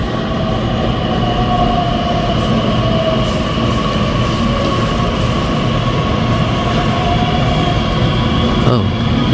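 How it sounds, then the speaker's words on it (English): Regional train on the line to Königs Wusterhausen pulling into a German station platform, a steady loud rumble of wheels and carriages with faint squeal near the end, no talk. "So with that, let's go meet our train."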